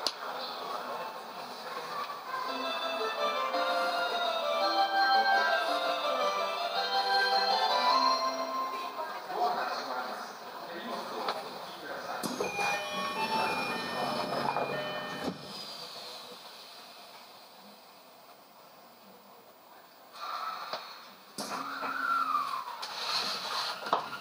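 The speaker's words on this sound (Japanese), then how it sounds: "Fライナー急行の森林公園行きです。発車をいたします。" An F Liner express train bound for Shinrinkoen departs, with an onboard announcement voice over the start and then steady rolling and rail noise that fades and swells, with brief squeals.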